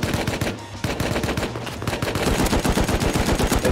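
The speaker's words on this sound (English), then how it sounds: "I shot him twice" Rapid automatic gunfire from an online shooter game, loud sustained bursts of closely spaced shots with a short pause near the start, then continuous firing to the end.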